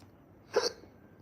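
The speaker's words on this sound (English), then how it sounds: "I had the hiccups" A single short hiccup from a person during a live stream hangout, faint and quick, standing alone against near silence.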